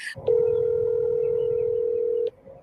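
A single steady telephone tone on an unanswered call, holding for about two seconds with a faint click before and after.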